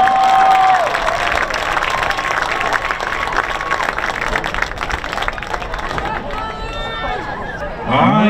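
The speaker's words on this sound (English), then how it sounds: "let's hear one more round of applause for all the players in tonight's game" Crowd at a girls' lacrosse all-star game breaks into loud, sustained applause and cheering, a broad wash of clapping that carries steadily across the arena, with crowd noise and voices mixed in.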